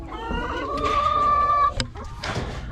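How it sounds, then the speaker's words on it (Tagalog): Roosters kept for breeding cluck nearby, with one drawn-out crowing call in the middle, some short squawks and soft farmyard noise behind. "ito yung mga roster nya tapos nandito sa kabila yung dalawa pa na rooster."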